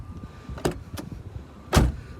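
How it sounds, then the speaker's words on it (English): The door of a 1997 BMW Z3 2.8 roadster shuts with a solid, deep thud, preceded by a couple of lighter latch and handle clicks, close and alone without talking. "just listen to this door."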